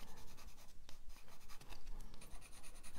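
Watercolour pencils scratch across stamped card as green is shaded in, a close, steady rubbing with short strokes and brief pauses throughout.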